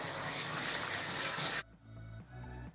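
Running water rinses No Poo cleanser from curly hair, a steady broadband gush for about a second and a half, then cutting to quieter, lower splashing and trickling.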